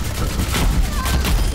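Bastion's turret mode in Overwatch unleashes a rapid, unbroken stream of loud automatic fire, thick and booming throughout the short burst, with a voice faintly underneath.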